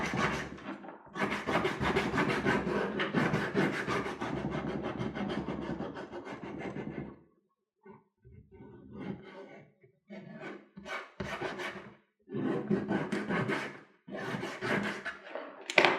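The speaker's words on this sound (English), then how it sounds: "take my sandpaper and just rough that up" Sandpaper roughs up the shiny surface of sandal material in quick rasping strokes, first as a long steady scrubbing run, then in short scattered rubs and a final burst, close and fairly soft.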